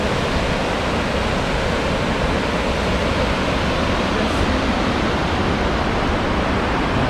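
Main channel of a mountain river in a valley near the Musta-Tunturi pass, a steady broadband rush of flowing water close by, continuous and unvarying, with no voices over it.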